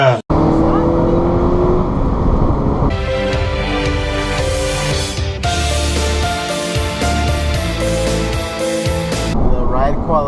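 A 2014 Honda Civic Si accelerating hard on the road, its engine rising and climbing through the gears with a shift break, loud and close from inside, heavy rumble beneath the revving.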